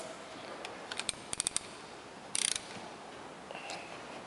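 Ratcheting clicks from a wrench tightening 13 mm nuts on a VW Beetle gearbox under repair: short quiet bursts of rapid clicks, then a tight cluster, close by in a quiet workshop.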